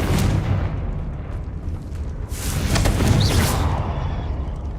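Confringo blasting spells go off in Hogwarts Legacy, making loud, rumbling booms over continuous low-end roar, with a brighter crackling burst swelling midway.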